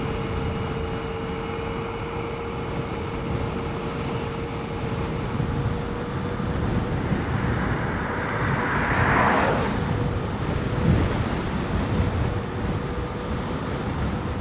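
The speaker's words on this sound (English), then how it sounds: "Still fighting wind." Steady wind rushes past a rider on a dark mountain road, a constant broad roar with a faint whine and a brief swell of passing noise midway, with no talking.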